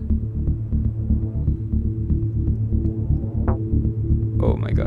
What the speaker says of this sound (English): The modulation, the FX modulator. This is another crazy plugin.